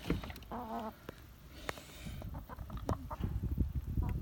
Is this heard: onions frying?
no